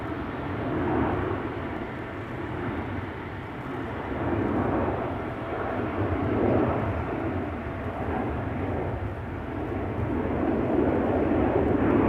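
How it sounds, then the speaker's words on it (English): China Airlines Airbus A350 jet taking off from Schiphol's Polderbaan runway, a steady, loud broadband engine roar lasting throughout with gentle swells, heard alone without any talking. "There it is, taking off from the wrong runway."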